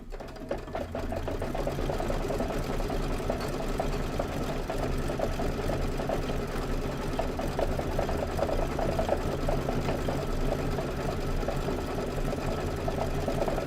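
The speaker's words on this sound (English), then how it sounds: "Okay, now it's going to do that decorative stitch." An embroidery sewing machine stitches a decorative stitch with a fast, steady mechanical chatter of needle strokes, close and continuous for over ten seconds with no voices.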